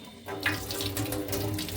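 Brown water runs from a kitchen tap at stronger pressure in a house in Poland. The flow starts, then pours in a continuous, splashing stream close by; no one speaks.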